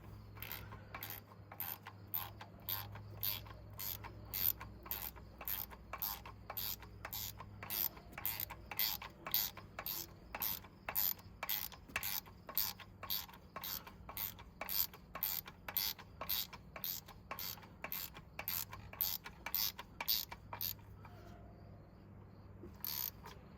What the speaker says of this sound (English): Now I'm gonna keep tightening this bolt down.